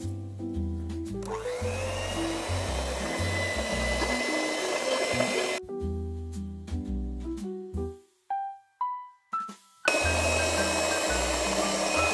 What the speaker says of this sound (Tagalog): So we'll do the final mixing using the electric hand mixer.